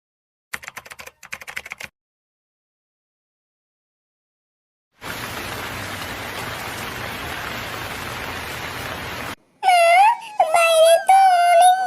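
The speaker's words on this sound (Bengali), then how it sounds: "বাইরে তো অনেক বৃষ্টি হচ্ছে আজ।" Heavy rain in a cartoon hisses as a dense wash for about four seconds, after a stretch of silence, then gives way to tonal cartoon sounds.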